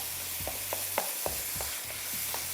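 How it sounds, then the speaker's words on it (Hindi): Beef mince frying on high heat, a steady low sizzle broken by a series of scraping stirs and light clacks of a spoon against the pan, fairly quiet and close, with no talk. "इसको भी करेंगे भुना फ्राई, थोड़ी इसकी होगी बुनाई तेज़ आंच पे"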